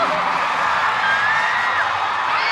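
An audience shouting and whooping at a live show, a loud sustained wash of crowd yells and cheers filling the whole stretch.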